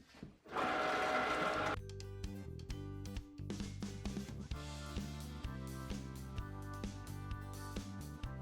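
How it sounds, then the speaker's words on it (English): A Cricut machine cuts glitter permanent vinyl, opening with a loud motor whir, then settling into a steady humming drone with repeated clicks and shifting mechanical tones, close by. "I went ahead and clicked the button on my Cricut machine"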